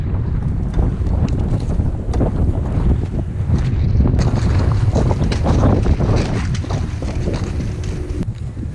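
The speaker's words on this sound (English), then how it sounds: "It's going to be a bit windy today" Strong wind roars and buffets the microphone continuously on a sunny day near Mount Kosciuszko, loud and rumbling with gusty swells throughout.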